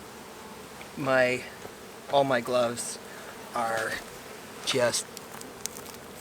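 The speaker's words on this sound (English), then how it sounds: "There are just way too many bees to be able to get the rest of them out on this visit" Bees buzzing around a large hive in an abandoned chicken barn, a faint steady hum under a person's intermittent speech.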